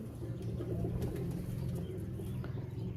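Royal Teddy pigeons coo in low, throaty, repeated rolls, close and continuous, with a few faint higher chirps and rustles in the background.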